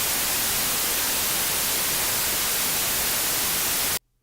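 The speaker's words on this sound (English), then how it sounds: "This is the white noise." Synthesized white noise used as sound-design material for electronic music, a bright, harsh, even hiss played alone at steady level before cutting off abruptly near the end.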